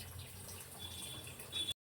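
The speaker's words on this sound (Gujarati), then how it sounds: "પાણી એડ કરી દેવાનું" Water being poured into a pot of khichdi, a steady watery rush lasting under two seconds before cutting off abruptly, with no voices.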